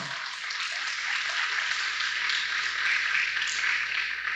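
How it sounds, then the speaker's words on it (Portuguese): Church congregation applauding, a steady even wash of clapping held at a constant level throughout, fairly distant and diffuse with no voices standing out. "Aplauda Jesus."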